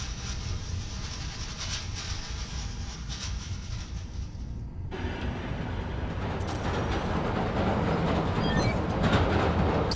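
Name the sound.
subway train clattering, from video game Spider-Man: Miles Morales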